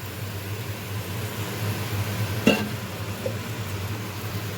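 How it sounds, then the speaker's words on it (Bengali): Vegetable stalks sautéing in a pan for a thin rohu fish curry, a steady hiss of frying with a brief scrape of stirring midway, close and even, no talking. "এবার আমি কষবো একটু ডাঁটাটাকে।"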